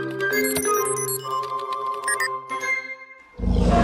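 A blaring, tonal cartoon bus horn blast with clanging overtones, then a deep rumbling dinosaur-like roar that swells at the end, loud and close.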